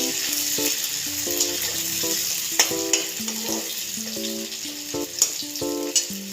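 Chopped tomatoes frying in a pan for a cluster bean curry, a steady close sizzle with occasional spatula clinks and scrapes, while tonal music plays in the background and no one speaks.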